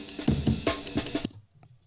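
Amen Break drum loop run through saturation, with punchy, gritty breakbeat hits in a quick pattern for just over a second before cutting off into near silence with a faint low tail.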